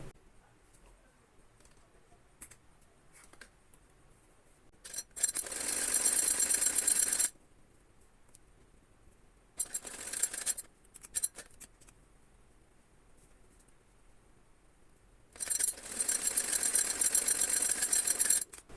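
Sewing machine running pressure stitches on a designer baby frock, with three separate bursts of fast, even mechanical stitching, each a few seconds long, and quieter handling noises in between.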